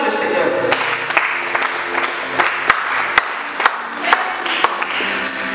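Church congregation clapping in worship, a dense run of sharp claps with a few louder strikes standing out, mixed with voices throughout.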